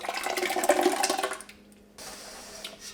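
Whey and dairy solids from homemade cream cheese being poured into a bag: a gushing liquid pour for about a second and a half, then a quieter trickle.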